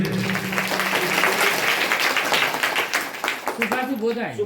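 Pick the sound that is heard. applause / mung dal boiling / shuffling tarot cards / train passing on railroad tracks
applause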